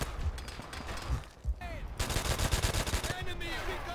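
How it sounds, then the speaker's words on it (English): M1 carbine gunfire in Call of Duty: World at War multiplayer, rapid cracking shots in uneven bursts amid other game sounds, fairly quiet and mixed with speech. "Got the M1 carbine. Oh my god, I missed every shot, I think."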